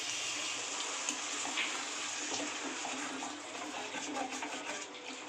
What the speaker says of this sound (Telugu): కర్రీకి సరిపడా వాటర్ వేసుకుందాము.